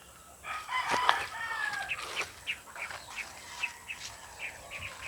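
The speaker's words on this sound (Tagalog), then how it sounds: "Pumuputak-putak na eh." Backyard chickens cluck nearby in short, repeated bursts, with a rooster-like crow rising early on and softer scattered clucks trailing after it.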